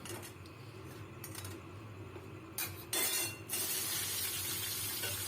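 Chopped onion hits hot oil already tempered with cumin, bay leaf and dried chilli, bursting into a loud, sustained sizzle after a few clinks of a pan and utensil.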